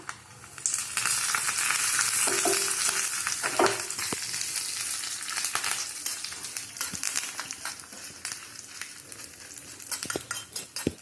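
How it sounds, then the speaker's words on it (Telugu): Oil sizzles and crackles loudly as curry leaves hit it for a carrot chutney tempering, a dense steady hiss with sharp pops and a couple of utensil clinks near the start. "ఇలా స్టవ్ ఆఫ్ చేసుకుని కొద్దిగా కరివేపాకు కూడా వేసుకుందాం"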